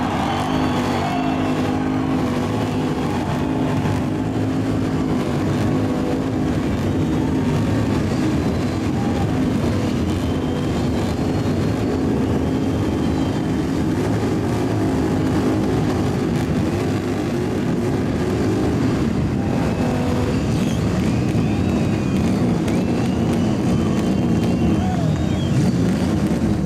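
A dense, continuous engine roar from many Harley-Davidson motorcycles at the Sturgis Buffalo Chip rally fills the scene, loud and steady, with crowd noise and faint voices mixed in.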